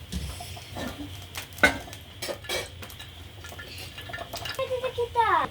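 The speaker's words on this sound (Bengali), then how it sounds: "আমরা এই পর্যায়ে শুকনো মরিচ, পাঁচফোড়ন আর শুকনো মরিচ আমরা একটু তেলে নিচ্ছি" Dried red chilies and panch phoron go into mustard oil in a pan, giving soft scrapes, clinks and light crackling at close range, with a faint sizzle building toward the end.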